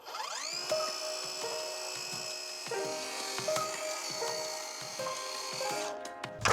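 A circular saw set up in a Kreg Rip-Cut guide whines steadily at high pitch while ripping plywood, holding a sustained tone with small fluctuations in load, close and loud, then spinning down at the end.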